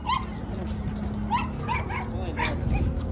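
A Dogo Argentino and several street dogs bark and yip in short, repeated bursts on a street, some barks close and loud, others sharper and higher, with faint whimpering and a person's voice in the background.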